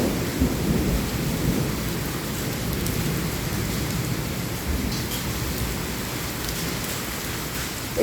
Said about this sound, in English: It's literally hailing right now.